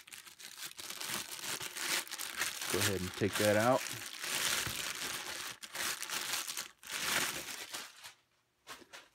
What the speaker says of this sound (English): what we got is our optic in a plastic bag